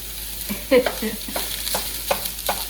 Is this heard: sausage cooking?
yes